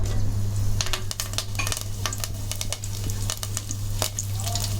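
Curry leaves hit hot oil in a pan, giving a loud, crackling sizzle up close, dense with sharp pops and spits, over a steady low hum.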